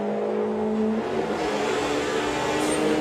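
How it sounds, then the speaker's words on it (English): Volkswagen drag race car on nitrous at the VWDRC Summer Nationals at Santa Pod, a loud sustained engine roar that climbs in pitch as it accelerates, heard from trackside with no talk. "Dave Crowhurst now using the nitrous and everything else."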